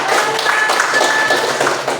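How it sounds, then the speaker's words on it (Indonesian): Schoolchildren clap together in a classroom, a loud, steady patter of many small hands running continuously for the full stretch without pause. "Tepuk tangan untuk"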